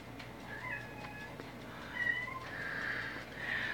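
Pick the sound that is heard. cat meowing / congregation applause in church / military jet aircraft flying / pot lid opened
cat meowing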